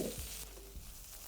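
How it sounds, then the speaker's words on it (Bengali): Onions fry in a pan while being browned for a spiced paratha and okra dinner dish, a soft steady sizzle close by, with no talk. "পেঁয়াজটাকে দেওয়ার পরে এটাকে একটু আপনাদের লাল লাল করেই ভেজে নিতে হবে"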